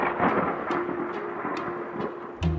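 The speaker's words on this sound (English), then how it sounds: "It's pouring with rain, and the sky's dark. A storm is brewing" A thunderstorm with pouring rain and a dark sky: low thunder rumbles roll under a steady hiss of rainfall, with a few sharper crackles and a deeper boom near the end, all fairly quiet.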